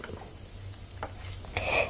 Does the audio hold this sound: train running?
no